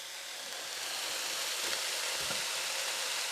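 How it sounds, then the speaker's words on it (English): Chopped onion, between medium and large, sizzles in a pan for stuffed peppers as a continuous broadband hiss, fairly loud and even throughout, with no voice. "you want to hear that sizzle"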